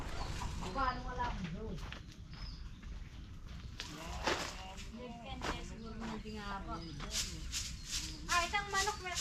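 Chickens cluck in short repeated bursts at a rural bahay kubo, fairly faint and scattered among nearby people talking and light footsteps.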